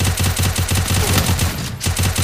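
Rapid gunfire in a 4 vs 4 first-person shooter match, loud and close, with repeated bursts of shots in a steady rhythm broken by a brief pause.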